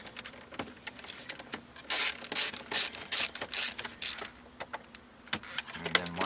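A ratcheting tool loosens dashboard panel screws on a Toyota Corolla during stereo removal, quick clicking bursts in a row up close, with quieter pauses between them.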